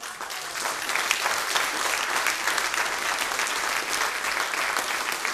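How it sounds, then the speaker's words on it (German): An audience at a Swiss folk-music evening breaks into sustained, even applause, a dense continuous patter of many clapping hands heard at moderate distance throughout. "riesigen Applaus"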